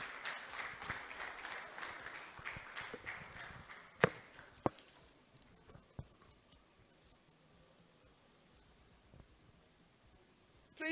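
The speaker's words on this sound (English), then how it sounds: "Put your hands together for Mr. Raymond Anyam Osigwe for his welcome address" Audience applause at an awards book lunch in a hotel, fairly faint scattered clapping that fades and thins out, with a few sharp knocks and shuffling movement standing out nearby.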